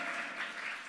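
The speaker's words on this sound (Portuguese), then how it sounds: "Quantos podem aplaudir o nome do Senhor?" A church congregation applauds the name of the Lord during a sermon, a dense, steady wash of clapping filling the short moment without a break.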